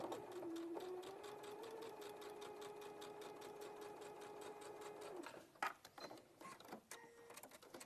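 A sewing machine stitches a quarter inch seam, running in a steady fast mechanical whir for about five seconds before stopping, followed by a few clicks and handling knocks.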